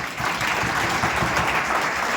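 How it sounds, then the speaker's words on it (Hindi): A gathered audience at a get-together breaks into dense, continuous hand clapping, steady and fairly loud for the whole stretch. "और तालियां बजा दीजिए आप।"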